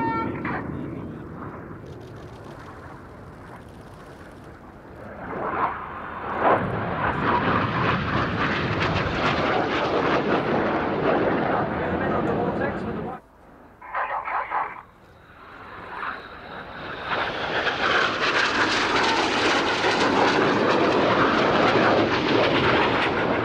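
Red Arrows RAF aerobatic jets roaring overhead in a flying display at an air show, a loud sustained engine roar that swells, briefly drops away, then builds again as the formation passes.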